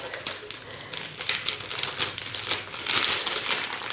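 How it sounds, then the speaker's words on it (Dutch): Christmas gift wrapping paper crinkles and rustles continuously up close as it is pulled and torn open, with dense crackling bursts. "dit papier pakt altijd wel moeilijk uit"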